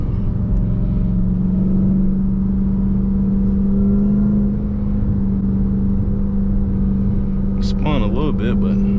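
Dodge Hellcat on 315 tires accelerating hard, a loud steady engine drone with a brief chirp of spinning tires near the end, under a voice.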